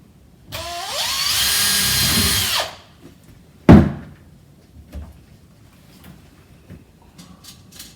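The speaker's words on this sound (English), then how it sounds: "Drill some more holes" A single burst of power drilling during a kitchen fit runs about two seconds, pitch rising as it spins up, followed by a loud knock and faint clatter.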